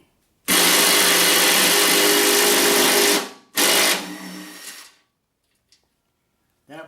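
Power tool driving a 1/2-inch socket on a stubborn spindle housing bolt of a Cub Cadet Z-Force S 48 mowing deck: a loud, steady whir of about three seconds, a brief pause, then a second burst that trails off, with faint clicks afterward.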